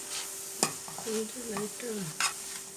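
Drumstick (moringa) leaves being sautéed lightly in a pan for a sambar: a quiet sizzle with a few sharp spatula scrapes and knocks over a short stretch, with a faint tonal hum beneath.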